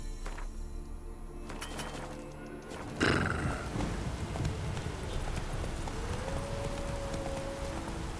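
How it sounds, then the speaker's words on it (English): In The Witcher 3, a horse's hooves clop steadily under a constant game soundscape, and a loud neigh breaks in near the middle before the hoofbeats carry on. "What is Geralt like making a horse noise so much?"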